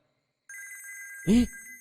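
A telephone rings with a steady electronic tone that starts after a moment of silence, interrupted by a short voice burst before the tone carries on.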